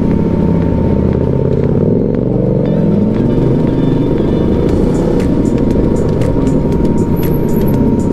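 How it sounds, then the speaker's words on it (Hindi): A car engine overheating during a road trip, its radiator fan running as a steady loud whir over continuous low engine rumble, with faint clicks and traffic noise throughout. "मेरी गाड़ी जो है बहुत ज़्यादा हीट हो चुकी है गाइस, आपको सुनाई में दे रहा होगा, रेडिएटर का फैन जो है ऑन हो चुका है।"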